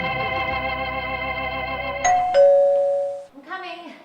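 A doorbell chimes two tones, ringing out clearly after a sustained musical tone, then a voice speaks briefly at the end.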